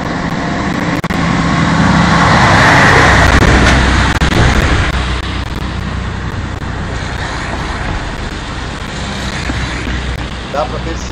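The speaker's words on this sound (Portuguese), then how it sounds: "Vou passar o caminhão agora." A loaded truck rolling across a concrete bridge over an expansion joint, a loud, broad road rumble that swells and then steadies, with a voice talking over it.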